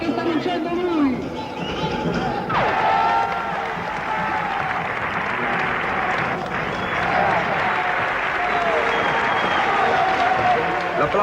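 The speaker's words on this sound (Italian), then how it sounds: "L'applauso finale, scrosciante, clamoroso" A large audience at a John Cage concert breaks into thunderous final applause, a dense, sustained roar of clapping mixed with crowd chatter and scattered voices.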